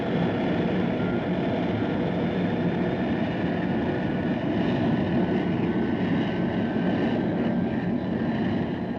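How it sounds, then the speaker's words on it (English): Jet plane engine blast: a continuous, loud, broadband roar that holds steady for the whole stretch, with no voices. "the blast of jet planes tears and buckles the surface of airstrips."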